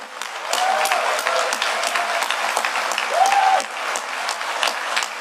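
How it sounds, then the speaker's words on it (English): A large conference audience at DEF CON 20 breaks into sustained, dense applause from start to finish, with a couple of whistles rising above the clapping. "then you guys are going to clap again at about like 9 times the volume for those folks over there"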